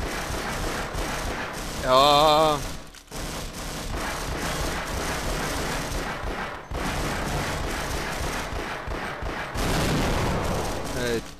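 Gunfire aimed at barrels in Half-Life Source, with sustained rapid shooting in loud bursts broken by brief pauses and a short musical tone near the start, as someone speaks a word.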